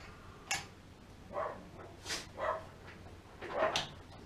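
Dogs barking outdoors at a distance near a workshop, a handful of separate yips and barks spread over a few seconds, faint and airy over a quiet background.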